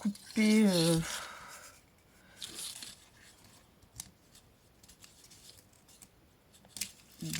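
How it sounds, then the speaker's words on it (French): Scissors snip through paper while assembling a paper rosette, a short burst of close cutting near the start, followed by quieter rustling and handling with a voice speaking over it. "Je vais venir couper"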